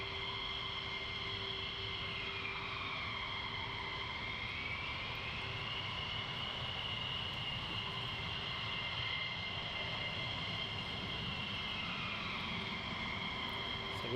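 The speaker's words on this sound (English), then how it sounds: "he's taxiing across to the north side" A military jet taxis at RAF Lakenheath, its engine whine sustained and fairly distant, with the pitch slowly shifting as it moves across the airfield.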